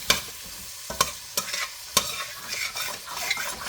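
Shrimp fried rice scraped and stirred in a hot pan, sizzling steadily with sharp spatula scrapes at irregular intervals, close and fairly loud, no voices.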